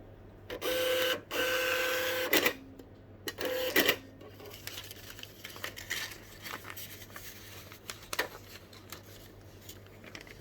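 An Epson TM-T82x thermal receipt printer running a test page, with loud buzzing bursts of printing and short pauses over a faint steady hum, then quieter clicks and rustles as the paper settles.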